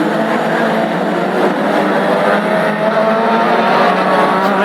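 Classic hot rods racing at Lochgelly on the opening lap of a heat, a loud, steady roar of several engines blending together with no break.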